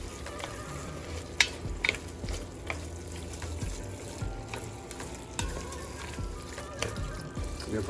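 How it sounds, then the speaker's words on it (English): Chili mixture being stirred in a frying pan, a steady sizzle and fry with scraping spoon strokes and occasional clinks against the pan, close and continuous with no talking. "Get these guys together and stir."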